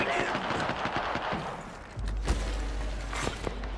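Gunfire in Apex Legends, a battle royale match: bursts of rapid automatic fire through the first seconds, then a heavy thump and scattered louder shots with low rumble, partly under game voice lines.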